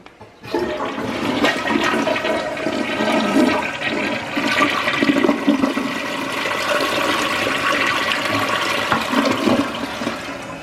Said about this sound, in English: I'm gonna flush it and we're gonna see where we are at with this.